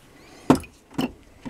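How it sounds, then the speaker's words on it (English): Hammer taps on the armature of a GMD82-05-1B DC motor during rewinding, three sharp close knocks spaced about half a second apart, with quiet between them. "Use hammer."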